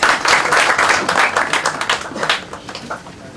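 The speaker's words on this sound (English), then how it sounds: "With a big round of applause." Audience applause at the launch of the book "An Evening in Lucknow", a dense burst of many hands clapping that tapers and thins over a few seconds.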